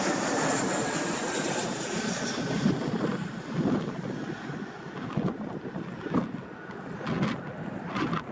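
Gulf Air Boeing 787 jet engines at Bahrain International Airport give a broad, sustained roar mixed with wind noise on the microphone, surging in places but without clear peaks.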